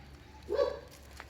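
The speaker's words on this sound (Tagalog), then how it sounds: "Kasi ang daming aso dyan, baka makawala yan" A single short dog bark, distant and quiet, rises briefly out of low background noise from a place where many dogs roam.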